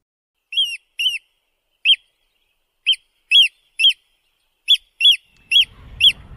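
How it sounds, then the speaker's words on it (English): Oystercatcher calls: a series of about eleven loud, sharp, piping whistled notes, some doubled, spaced irregularly over several seconds and heard clearly alone, with a low rumble creeping in at the end. "Here is an example of an oyster catcher's call."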